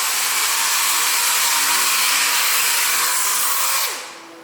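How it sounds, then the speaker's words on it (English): A loud, steady high-pitched whir of a power sander on carbon fiber racing boat hatches runs without pause, then cuts off near the end. "doing some sanding, getting all the hatches ready to be painted and worked on"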